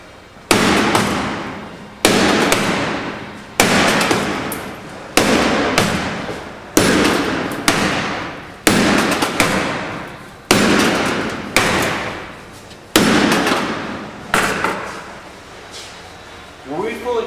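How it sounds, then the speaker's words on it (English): Heavy metallic hammer blows on a race car ring out one at a time at a slow, regular pace, about a dozen strikes, each decaying before the next. "Okay, I'm going to start hammering on this while you do that."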